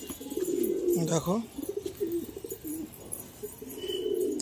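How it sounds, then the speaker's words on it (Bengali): Pigeons coo in a loft, a steady low rolling coo running through the whole stretch with a few brief chirps on top, fairly close, while someone speaks briefly over them. "এই সব টোটাল পায়রা এখন"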